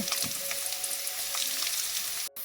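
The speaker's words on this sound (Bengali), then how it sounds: "তেলটা গরম হয়ে গেছে এটাতে দিয়ে দিয়েছি রসুনের কুচি" Chopped garlic frying in hot oil gives a steady, close hiss and crackle with small pops, holding evenly until it cuts out briefly near the end.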